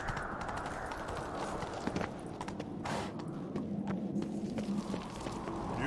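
Roach the horse's hooves clip-clop in a steady walking rhythm in The Witcher 3, close and moderately loud over a soft ambient bed, with no talk.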